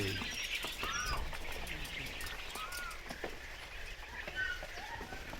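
Thousands of quail chicks in farm cages chirp faintly, a busy overlapping chorus of thin tweets with a low background hum.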